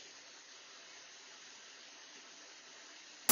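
Heavy rainfall picked up by a SoundPEATS Air 4 Pro earbud microphone, a steady dull hiss with no one speaking, ending in a sudden loud burst.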